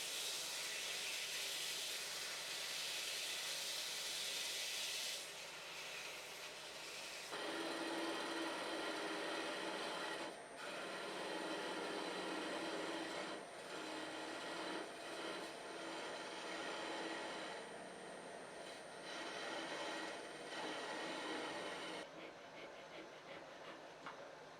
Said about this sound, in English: All I have left to do on the lathe is sand it down and part it off.